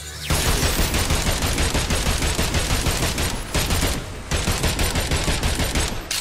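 Sustained automatic gunfire in the action video game Agents of Mayhem, loud dense rattling bursts that barely pause, with a brief gap near the end before firing resumes.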